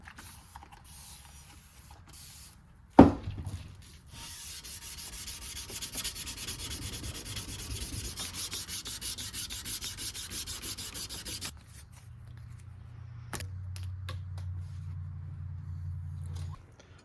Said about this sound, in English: I was just over here hand sanding